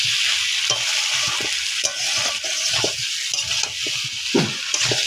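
Pointed gourd is stir-fried with boiled shrimp rubbed with salt and turmeric. Rhythmic spatula scrapes and knocks repeat close by over a constant crackling sizzle.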